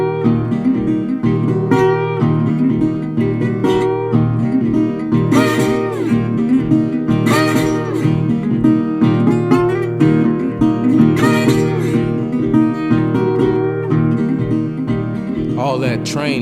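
A blues harmonica imitates the devil's train with a steady chugging pulse and repeated bent, wailing whistle cries, loud and close over a driving accompaniment.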